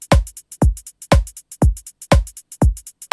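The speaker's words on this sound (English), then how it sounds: "I can also add some swing to my hi-hat if I want" A programmed electronic drum pattern with swing added to the hi-hat: punchy kicks land in a steady loop, and crisp, close hi-hat ticks fill the gaps with a lilting, uneven rhythm.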